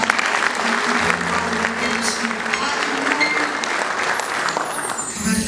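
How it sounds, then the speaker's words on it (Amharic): A church congregation at a Pentecostal Easter worship service in Welkom, South Africa, keeps up loud sustained applause with ululation, a dense steady crowd roar that stays close and even throughout. "አሁንም ከፍ ያለ እልልታና ጭብጨባ"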